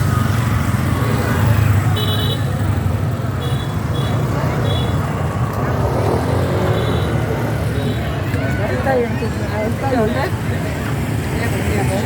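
Busy street corner in Lao Cai, Vietnam during Tet, with a dense traffic jam: a steady, loud roar of cars, buses and motorbikes close by, short horn beeps sounding now and then, and a murmur of voices mixed into the noise.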